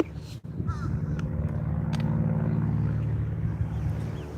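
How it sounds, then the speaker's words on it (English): A propeller plane towing a banner drones overhead at a birding spot in Lakeland, Florida, a steady low engine hum that swells and holds, with faint outdoor ambience around it. "Hear that plane again with his banner"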